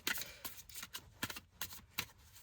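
Tarot cards are shuffled close by in quick, crisp riffling bursts, with several rapid papery flutters and soft taps spaced irregularly across a couple of seconds, no voice over them.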